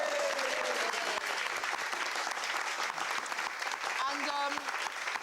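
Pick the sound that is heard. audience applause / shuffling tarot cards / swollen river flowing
audience applause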